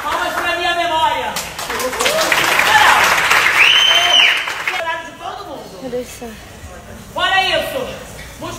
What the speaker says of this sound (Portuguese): Palmas pra minha memória!